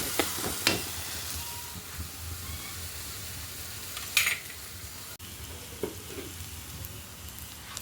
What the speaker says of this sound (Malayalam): ചെറിയ ഉള്ളി, വെളുത്തുള്ളി, ഇഞ്ചി, മുളക് പൊടി, മഞ്ഞൾപ്പൊടി, ചെറിയ കുരുമുളക് പൊടി, ഇച്ചിരി മസാലപ്പൊടി, ഇതെല്ലാം കൂടെ എണ്ണയിൽ മൂപ്പിക്കുക